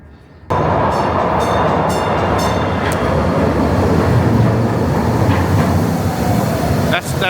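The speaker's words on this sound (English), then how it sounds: "That's not our train. We need the train over on these tracks." A train rumbles loudly past a platform on the way to the Missouri History Museum, its steady roar and clattering wheels filling the scene from start to finish, with faint voices underneath.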